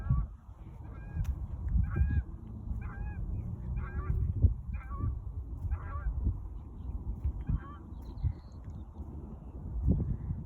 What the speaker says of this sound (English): You can hear the geese in the background.